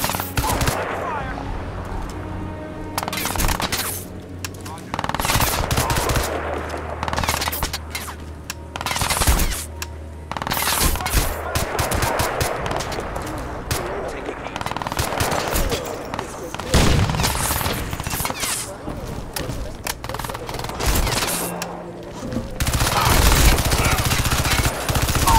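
A sustained firefight in the video game Crysis 2: dense machine-gun bursts and volleys of gunshots crowd close together for the whole stretch, loud and near, with brief lulls and some heavier booms among them.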